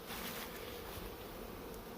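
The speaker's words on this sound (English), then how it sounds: "here's the bees, the box" Honey bees swarm around a removal box during a hive removal in North Brookfield, giving a steady, dense buzz that fills the air without pause.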